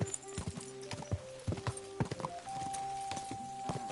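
Horse hooves clop in quick irregular beats in Kingdom Come: Deliverance II, close and sharp over a sustained tonal hum, with a brief whinny-like sound mixed in.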